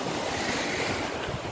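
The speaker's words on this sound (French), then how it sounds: "La mer est belle. Il y a un petit vent qui s'est levé." Sea waves wash steadily onto Sérignan beach under a light breeze, a continuous broadband surf roar with wind buffeting the microphone, close and fairly loud with no voices.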